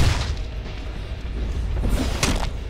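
Rapid gunfire from a machine gun in the Deadpool video game, a dense burst of booming shots with sharper cracks near the end, loud and close throughout.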